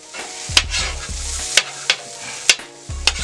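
Fried rice sizzling on a hibachi griddle while a metal spatula strikes and scrapes the steel surface in sharp, repeated clacks about once a second, close and loud.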